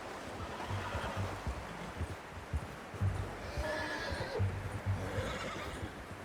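A horse whinnies and its hooves clip-clop in an open-world western video game, the neighing standing out over steady ambient wind or water noise.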